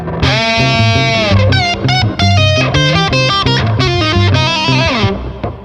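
A heavily distorted electric guitar plays a quick, thick riff of chords and bent notes, loud and saturated throughout.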